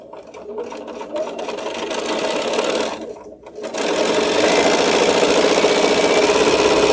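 A sewing machine stitches side pieces onto a fabric quilt block, its motor running in a steady, close whir with a rapid needle chatter, pausing briefly before resuming at full pace.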